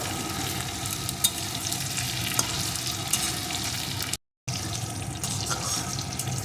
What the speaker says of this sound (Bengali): টমেটোটাও একটু কষিয়ে নেব